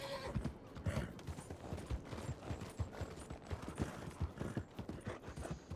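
Horses in the video game Red Dead Redemption trot with steady, continuous clip-clopping hoofbeats and occasional whinnies, filling the scene at a constant moderate level.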